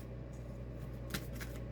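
Tarot cards being shuffled by hand, a soft, close riffling patter over a low steady room hum, with a brief brighter flurry of card snaps partway through.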